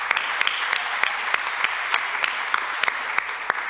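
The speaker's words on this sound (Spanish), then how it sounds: "Un aplauso, por favor, para la maestra Diana" Steady audience applause at a talk on women and labor reform, many hands clapping densely and evenly at a moderate distance, sustained throughout with no voices over it.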